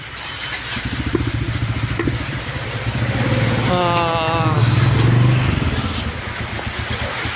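A motorcycle engine runs steadily at close range, rising slightly in pitch midway while being moved to shelter in heavy rain, with steady rain noise underneath.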